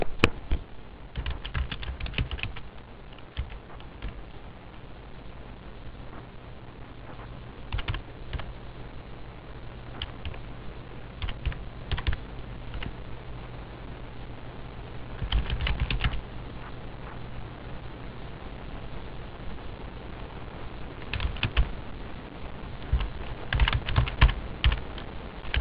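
Someone types on a computer keyboard while entering data, a close, light patter of key clicks in irregular bursts with quieter pauses between them.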